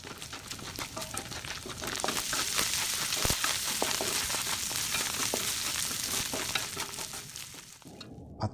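Chopped onion and garlic sauté in hot oil in a pan for ginisang togue, a steady dense sizzle with scattered crackles and scraping stirs throughout, fairly close and without speech.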